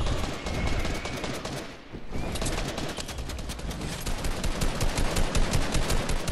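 Sustained video game shootout with dense, continuous automatic gunfire throughout, loud and close, with a brief dip in the shooting partway through and no talking.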